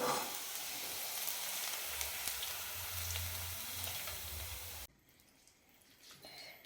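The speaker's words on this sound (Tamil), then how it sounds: "வெங்காயம் நல்லா வதங்கட்டும்." Onions sauté in a pan with a steady close sizzle and a low hum for most of the clip, then the sound drops away to near quiet with faint clatter toward the end.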